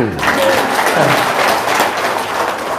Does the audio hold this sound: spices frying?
no